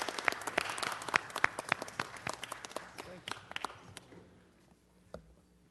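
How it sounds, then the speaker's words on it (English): An audience at a city council meeting applauds muralist Anthony Cox, a burst of scattered clapping that thins out and fades away after about four seconds. "Let's give Mr. Cox a round of applause."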